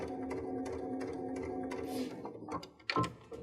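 A domestic sewing machine stitches in quick, even mechanical bursts with short pauses between runs. Near the end, handling clatter and cloth movement take over.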